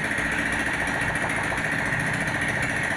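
A rebuilt Honda Scoopy 2021 scooter engine with a replaced crankshaft runs at a smooth, steady idle, a constant close buzzing hum with no talk over it.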